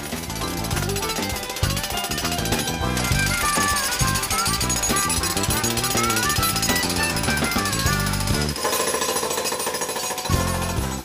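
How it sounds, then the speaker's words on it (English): A jackhammer breaking a concrete basement floor pounds in a loud, steady rapid rhythm, with music playing over it nearly the whole time. "Step one is to jackhammer a narrow trench around the perimeter of the basement"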